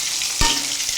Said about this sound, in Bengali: এখানে আমি তেলে পাঁচফোড়ন দিয়ে, তেজপাতা দিয়ে এখন সবজিগুলি ভাজবো।